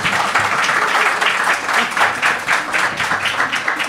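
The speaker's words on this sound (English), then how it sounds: "please give a big round of applause to our distinguished panel" Sustained audience applause for a panel at a public discussion event on allied forces in Latvia, a dense, steady wash of many hands clapping with a faint murmur of voices underneath.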